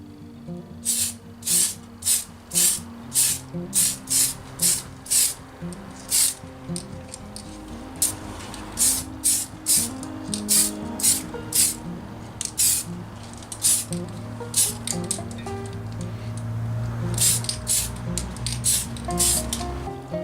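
Tamiya PS-1 white spray paint is applied to the inside of a Lexan RC car body in a long series of short, sharp aerosol bursts, evenly spaced and close, each a crisp hiss.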